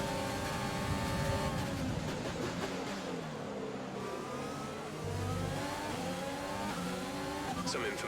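Race cars in an F1 video game pull into the pits, with steady engine drone and revving rising and falling over continuous broadband noise.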